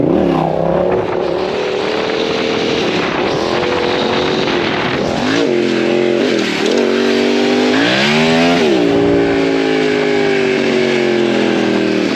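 A car engine revs loudly and continuously while driving through a bend, the pitch climbing and dropping with throttle changes and gear shifts, close and dominant with no talk.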